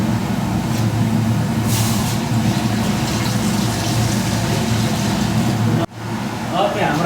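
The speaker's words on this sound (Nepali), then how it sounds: "पानी हाल्छौँ" Water pours steadily into a cooking pot being readied for boiling, a continuous rushing wash that runs for several seconds and then cuts off abruptly before resuming more softly.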